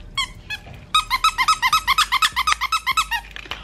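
A squeaker hidden inside a soft pom-pom toy gives a few squeaks, then a rapid run of about fifteen sharp, loud, evenly spaced squeaks, heard close and alone.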